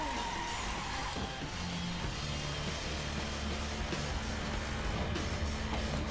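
McLaren sports car in the racing video game The Crew, its engine roaring steadily and loudly throughout with a constant low rumble and no talk.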